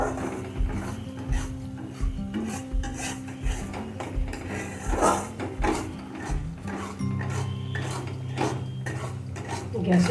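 Spices loosened with a splash of water are mixed in a cooking pan over medium-low flame, a steady series of close scraping and clattering strokes of a utensil against metal, moderately loud and continuous.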